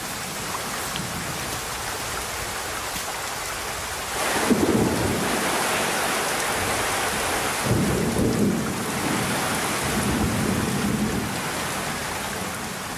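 A torrential tropical downpour hisses continuously near a river, with low thunder rolling in twice, the rain loud and unbroken throughout.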